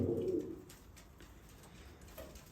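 A pigeon gives a low, throaty coo up close, then soft bird rustling follows in a quiet room.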